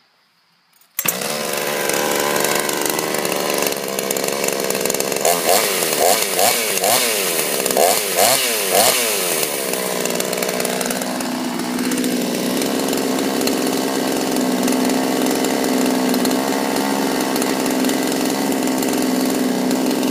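A Chinese clone chainsaw running on 25-to-1 fuel mix fires up on a warm start after a short silence, then roars loudly and steadily, revving up and settling into a sustained high whine near the listener.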